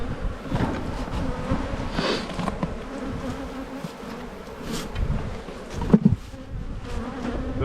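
Bees swarm around an opened beehive during an inspection, a dense continuous buzz close to the microphone, with individual bees swelling louder as they pass and a brief sharp knock near the end.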